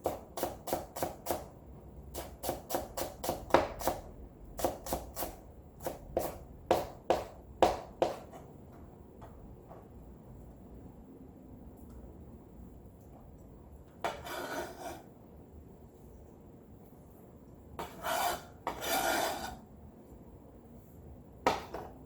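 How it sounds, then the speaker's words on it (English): A knife slices chives thinly on a cutting board, a quick series of sharp, close taps in rapid bursts, then a pause with a few scraping rubs as the cut pieces are gathered. "Just cut them nice and thin like this."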